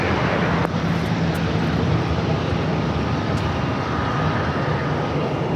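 Jet airliners roar steadily at LAX, a dense, continuous engine rumble and hiss without letup, loud and broadband with a faint low hum underneath.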